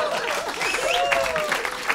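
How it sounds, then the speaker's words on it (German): A talk-show studio audience bursts into a short, full round of applause mixed with whoops and a whistle-like cry, with voices underneath. "Ja, Leute, das ist Applaus wert"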